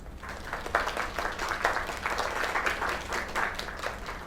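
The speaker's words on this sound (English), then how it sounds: "Another round of applause." A crowd of audience members gives sustained applause, with dense, steady clapping that holds at an even level throughout and no voices over it.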